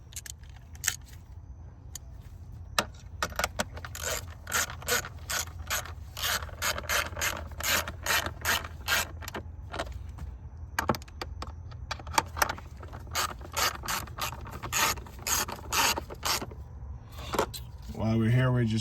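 A hand ratchet snugs bolts down during a PCV valve job on a car engine, giving rapid, repeated clicking bursts in close quarters, with a voice heard at times.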